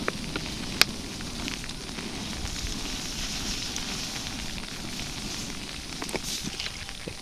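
An outdoor bonfire on Midsummer night crackles and hisses steadily, with scattered sharp pops over a broad rushing wash and no one talking.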